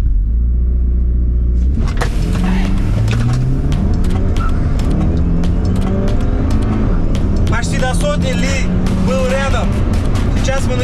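A Chevrolet Malibu 2 Turbo and a Li L9 launch from a race start in Uzbekistan. Loud engine roar climbs steadily in pitch through the gears, with a heavy rumble beneath and sharp rattles and whines near the end.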